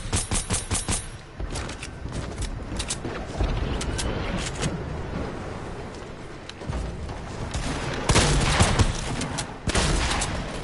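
Bursts of rapid gunfire in a Fortnite match, loud and close, clustered at the start and again near the end with steadier shooting between.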